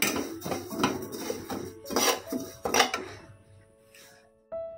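A metal utensil scrapes and clinks against a pan in several bursts as something is dry-roasted, close by, then quiets to a faint hum before a last soft knock.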